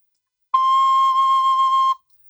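A tin whistle sounds a single sustained C natural, clear and steady for about a second and a half, played alone with no talking.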